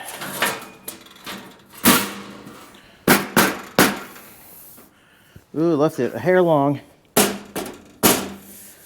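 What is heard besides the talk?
hammer knocking welding table part into corner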